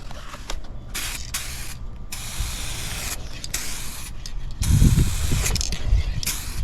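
Rust-oleum 2K gloss clear spray paint hisses from an aerosol can in a long, loud, continuous spray outdoors. Short pauses break it up, and wind rumbles in partway through.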